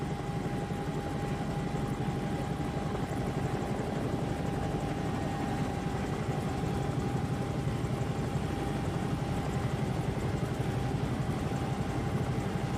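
A Bell 222 helicopter in a flight simulator game, its steady rotor thump and turbine whine droning loudly and evenly throughout with a constant high tone, no voices present.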